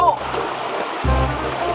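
River water rushes steadily in a broad, close hiss at a bathing spot, with a brief vocal sound at the start.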